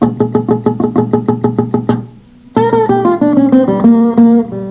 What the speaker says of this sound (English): the picking sounds like this without any notes